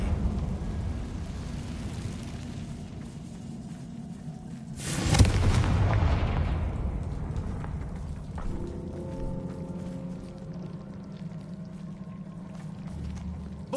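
A Confringo fire spell blast in Hogwarts Legacy, one sudden loud burst rising out of a steady rain-like hiss and fading over a couple of seconds into continuing low rumble and clatter.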